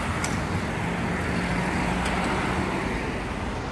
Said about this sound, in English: You see so many buses constantly moving down here